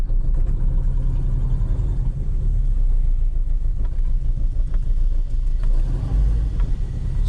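A 2009 Nissan Altima engine idles rough and smoky, a loud, steady low rumble with an uneven, chugging pulse that carries on without a break.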